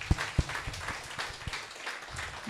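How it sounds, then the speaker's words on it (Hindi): Applause from an audience at a Christian church meeting in Goa, a few loud claps standing out at the start over softer scattered clapping that thins toward the end. "वाओ, तालियां।"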